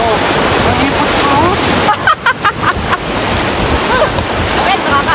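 Broadband rushing, splashing river water during a rafting trip in Georgia fills the clip steadily, loud and close, with a brief choppy burst of sharper splashes midway; voices may be faintly present.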